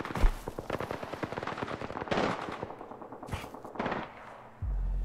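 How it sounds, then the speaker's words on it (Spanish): Rapid automatic gunfire in Apex Legends, a dense burst of close shots followed by a few separate bangs, loud and punchy with no talk. "Pues dispara, dispara desde aquí."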